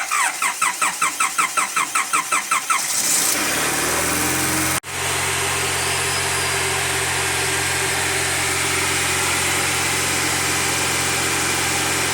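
A K24 turbo engine with an intake manifold leak, in an AWD Honda EG, cranks in rapid repeated turns, catches and roars to life, then settles into a steady, loud idle.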